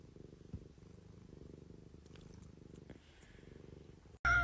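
A big, chunky male house cat purrs close up in a steady low rumbling pulse for several seconds, then a sudden loud burst of noise cuts in at the very end.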